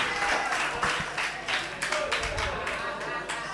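An audience at a religious lecture claps in a broken, uneven burst of applause lasting a few seconds, fairly close, with overlapping voices and chatter underneath.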